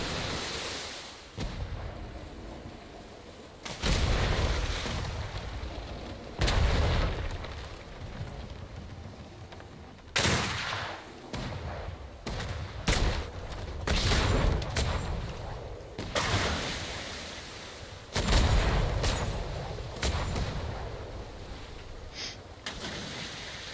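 Video game gunfire comes in heavy repeated bursts, each a dense, loud volley of shots. Noisy, rumbling gaps separate the bursts, which continue across the whole stretch.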